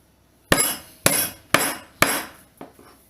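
Four hard, evenly spaced thuds, like pounding herbs for tom yum on a cutting board, then a lighter fifth knock; close and sharp.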